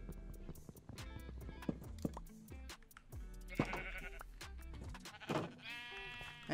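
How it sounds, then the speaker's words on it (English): Sheep in the Minecraft video game bleat several times in short wavering calls, spaced irregularly and fairly clear, with soft footstep-like clopping between them and no talking. "Wait, did the sheep get out?"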